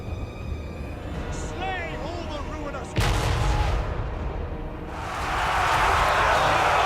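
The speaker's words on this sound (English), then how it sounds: "The cannon continues to try to shoot at the mammoth." Cannon artillery fire in a Total War: Warhammer 3 battle, with one sharp, heavy blast about midway through, followed by a rising wash of battle noise beneath continuous narration.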